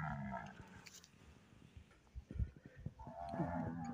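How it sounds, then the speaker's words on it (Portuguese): Cattle moo faintly in an open hillside pasture, low drawn-out calls at some distance mixed with quiet outdoor background and scattered thumps, no talking. "Olha onde tem uns bois veacos subindo lá em cima já."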